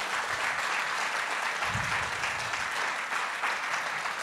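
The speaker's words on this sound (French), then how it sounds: "on peut les applaudir" An audience at a large conference hall talk applauds in a sustained, dense wash of clapping hands, steady and fairly loud, with a brief low thump partway through and no speech over it.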